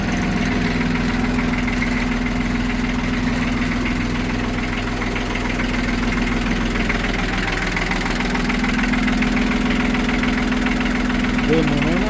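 A tractor's diesel engine, just started after sitting unused for a month and a half, idles with a steady, knocking low rumble, close and continuous, with a voice speaking faintly beneath it.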